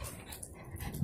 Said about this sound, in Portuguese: Aí vim soltar minha filhinha aqui, ó. Minha filhinha cachorra.